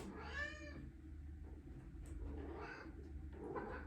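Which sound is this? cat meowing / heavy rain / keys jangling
cat meowing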